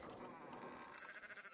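Sheep bleat repeatedly in Red Dead Redemption II, a steady run of close, wavering bleats with a voice talking over them.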